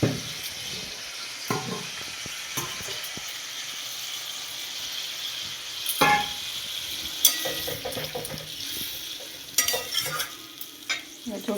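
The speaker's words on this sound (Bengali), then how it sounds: "এবার একটু জল দিয়ে দেবো, সেদ্ধ জলটা দিয়ে দেবো।" Boiled water is poured into a rui fish, cauliflower and cumin curry frying in a pan, then stirred. The pan sizzles steadily, with scraping stir strokes and a louder splash of water partway through.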